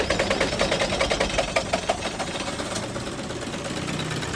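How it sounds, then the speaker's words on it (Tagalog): An Isuzu 4HL1 diesel engine, cold and hard starting, runs with a rough, uneven misfiring rhythm, a close clattering idle with irregular knocks that steadies slightly toward the end. "Medyo hard starting sa palyado, malamig pa ang makina."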